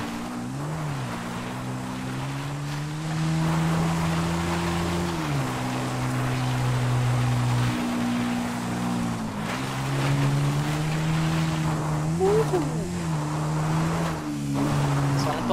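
An off-road motorbike engine in GTA V drones steadily at low pitch, dipping and rising with throttle changes, with a brief higher whine near the end.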